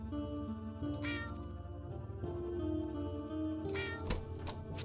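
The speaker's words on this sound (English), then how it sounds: "Can I throw my cat there?" A cat meows in the video game YIIK after being thrown, a few bright meow calls rising over steady game music, with no talk.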